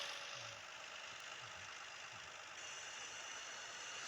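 A low, steady video-game tractor engine idle in Farming Simulator 18, rumbling continuously at moderate volume, with a faint repeating knock and no voices.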